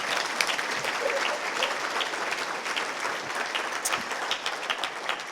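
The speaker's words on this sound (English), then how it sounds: "Let's give him another round of applause." Applause from a seated audience at a luncheon lecture, a steady dense wash of many hands clapping throughout at moderate level, with no speech over it.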